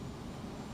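An airplane taxiing in Microsoft Flight Simulator 2024 gives a steady, fairly loud jet engine drone that holds even through the short stretch.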